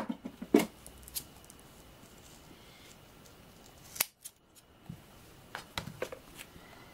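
Scissors snip thin strips from 3D foam, several short, crisp cuts close by with quiet pauses between them.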